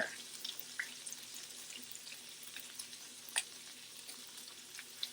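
Shrimp frying in a pan give off a soft, steady hiss with faint crackles and a few sharper pops, heard close but quietly, with no one talking.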